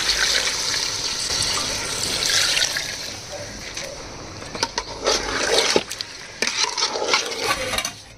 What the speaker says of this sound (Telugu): ఇప్పుడు వాటర్ పోసుకోవాలండి.